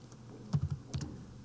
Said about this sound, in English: I gotta quit typing P.